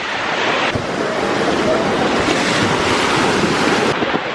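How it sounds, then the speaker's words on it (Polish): Steady roar of ocean surf washing onto a beach, continuous and loud, with wind buffeting the microphone throughout. "Trafiliśmy na plażę, nie wiem czy coś słychać przez te fale."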